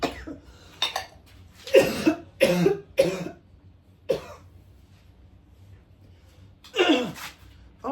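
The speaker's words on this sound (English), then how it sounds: "Pardon me, I have to cough." Several sharp coughs in short bursts, close and fairly loud, with quiet pauses between them and a final cough after a longer gap.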